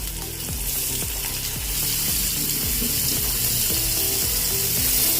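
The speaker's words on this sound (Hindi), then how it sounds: "थोड़ा सा गरम हो गया है तेल, अभी हम अपना पनीर डाल देंगे इसमें।" Paneer sizzles steadily in hot oil in a pan, a constant loud hiss with faint clinks and scraping underneath.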